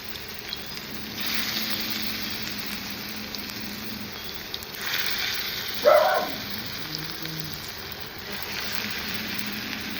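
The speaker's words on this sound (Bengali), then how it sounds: "তেল গরম হয়ে গেছে আর এই যেটা মেখে রেখেছিলাম দেখালাম সেটা কত সুন্দর হয়েছে দেখো এরপরে ভেজে নেবো" Battered food fries in hot oil with a steady, close hiss and crackle throughout. A louder spitting burst comes midway as a piece goes in.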